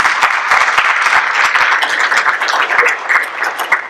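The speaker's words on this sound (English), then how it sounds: "can we give them all a big round of applause?" At a school board meeting, the audience gives a loud, sustained round of applause for sponsors, with dense, even clapping throughout.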